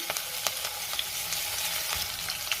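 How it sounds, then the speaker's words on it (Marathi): Cumin seeds, green chili and crushed garlic sautéing in hot oil in a pan for a bhendi bhaji, a dense steady sizzle broken by light crackles and pops, close and alone. "हे थोडंसं परतून घ्यायचंय, 1 मिनिटभर परतून घेणार आहे, म्हणजे लसणाचा कच्चा वास निघून जाईल"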